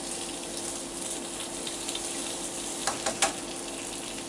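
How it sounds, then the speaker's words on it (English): A pot of water boils hard on the stove, ready for poaching fresh eggs, giving a steady close hiss and roil with a few sharper bubbling pops near the end. "But the water's boiling quite hard, and now I'm going to turn it down."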